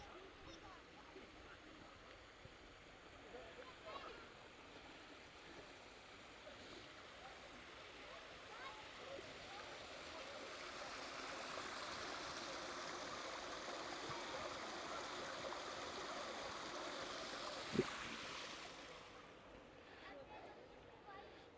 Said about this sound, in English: Check out these little waterfalls.